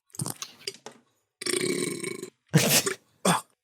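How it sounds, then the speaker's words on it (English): A person lets out several loud, close burps of varying length, from short gulps to a long drawn-out rumbling one, separated by silence. "Excuse me, need to burp."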